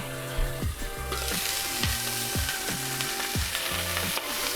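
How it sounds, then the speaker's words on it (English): Chicken breast sears in a hot pan for chicken tacos, a steady close sizzle and crackle running throughout, with low clunks of the pan and spatula and a tonal hum beneath. "we'll sear it a little bit on this side"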